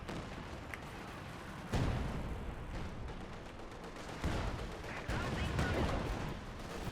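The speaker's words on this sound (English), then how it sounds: "We have a Zis artillery piece hitting the front, using artillery to hit the MG and Grenadier." Artillery fire from a ZiS gun in the Company of Heroes 2 battle game on the Belgorod map, with several loud booming impacts and gunfire bursts under continuous game battle noise and someone commentating over it.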